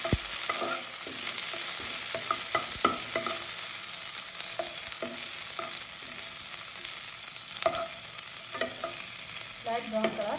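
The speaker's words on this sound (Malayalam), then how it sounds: "അതിനൊന്ന് നെയ്യിൽ വറുത്ത് കോരാം." Grapes, raisins and cashews fry in ghee in a pan with a continuous close sizzle, broken by frequent light clicks and scrapes from stirring and no talking.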